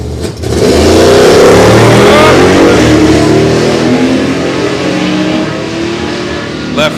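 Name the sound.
Camaro and Firebird drag racing launch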